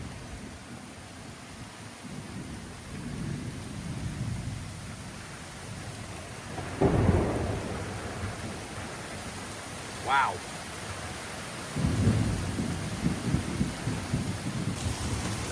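A thunderstorm pours steady rain in a front yard, with several deep thunder rumbles swelling over the hiss and a brief exclamation from a person.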